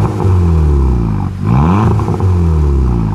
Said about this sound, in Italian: ora ci fa sentire due sgasate